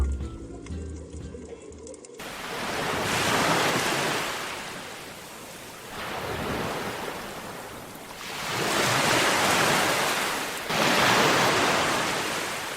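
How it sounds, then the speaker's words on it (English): Fierce ocean waves of Bass Strait off southern Australia's Mount Chappell Islands surge and break in repeated loud washes of surf, rising and falling in long swells, with wind and no talking. "amid the fierce waves of Bass Strait"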